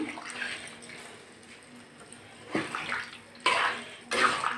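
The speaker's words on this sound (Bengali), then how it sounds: "আমি এখন একটু জল দিয়ে দেবো, বেশ মাখো মাখো হবে রান্নাটা।" Water splashes into a pan of vegetarian kohlrabi and carrot curry cooked with mustard paste, arriving in a few short bursts over a low background hum that grows louder toward the end.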